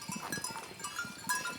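Several goats herded across rural Italian properties bleat in short, overlapping calls, some near and some farther off, over a busy outdoor background.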